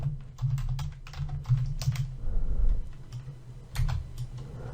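Typing on a computer keyboard while writing HTML text, with a steady run of fairly loud, close key clicks in quick irregular bursts and a short pause midway.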